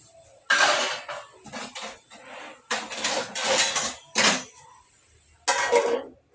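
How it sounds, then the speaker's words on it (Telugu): Metal lid set onto a cooking pot of bombay rava in a home kitchen, several sharp clanks and rattles in separate bursts with quiet gaps between. "ఇదైతే మూత వేసేస్తా"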